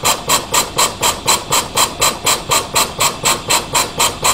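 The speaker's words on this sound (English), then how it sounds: "And there's the poppet valve engine going again." A live steam poppet valve engine runs in a diorama generator room, giving a fast, even chuffing hiss of roughly four exhaust beats per second. It is close and steady throughout, with no talking.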